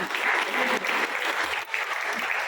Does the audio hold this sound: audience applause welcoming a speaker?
yes